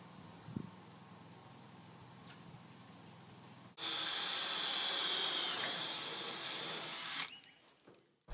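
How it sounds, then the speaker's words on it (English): A power drill drives screws through a fascia board into steel brackets on a shipping container house, one steady loud run of about three and a half seconds after a quiet stretch, then stopping abruptly. "it's just a simple matter of screwing on the fascia board."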